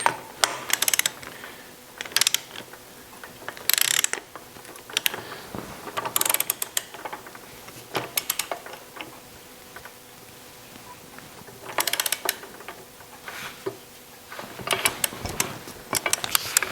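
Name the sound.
tightening Porsche 901 transaxle pinion shaft bolt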